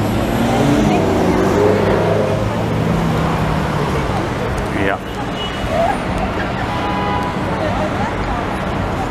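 A Dodge Challenger drives past on a busy Montreal street during Grand Prix weekend in June 2019, its engine and tyre noise blending with steady traffic rumble and crowd chatter, with a brief rise as it goes by.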